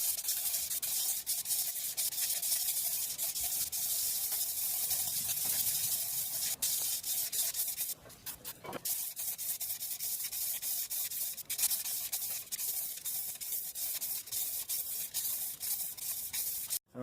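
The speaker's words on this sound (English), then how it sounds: "I put a little bit of the 400 grit sandpaper with some valve grinding compound" A crankshaft is sanded by hand with 400 grit sandpaper and valve grinding compound, giving a continuous, close rubbing and scratching sound that is steady throughout with one brief pause partway.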